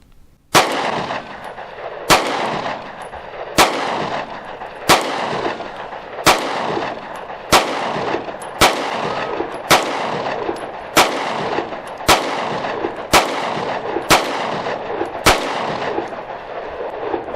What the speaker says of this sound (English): So I'm going to try 13 rounds of the Winchester.